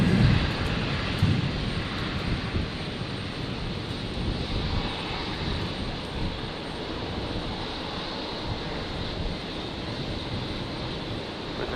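A fixed-wing aircraft landing on runway 01 right at Brisbane International Airport on a stormy Saturday night, its engines a steady, loud, broad roar that holds almost unchanged throughout.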